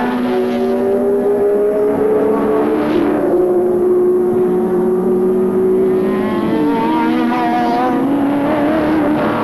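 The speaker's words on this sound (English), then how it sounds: "Using the grunt of the big Ford Falcon out of the slowest corner on the track." A big Ford Falcon V8 touring car powers out of the slowest corner at Oran Park during a 1984 touring car championship race, its engine note rising in a loud, sustained roar that swells and shifts pitch as it accelerates.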